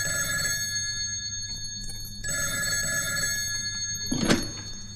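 A telephone bell rings in continuous trilling bursts with a short gap, close and clear, ending in a dull thunk as the handset is lifted.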